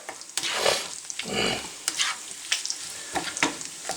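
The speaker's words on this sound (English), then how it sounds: "I got bacon talking to me. Popping everywhere." Bacon sizzling in a hot pan, crackling steadily with sharp pops and spatters breaking out every few moments, close up and without speech.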